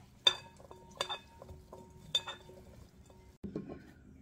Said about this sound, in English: To my broccoli and beans, I'm adding some olive oil and some salt, and this is just gonna get tossed